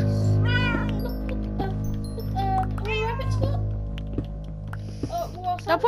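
A cat meows repeatedly up close, several drawn-out wavering calls with short pauses between them, mixed with a voice talking over and around the cries.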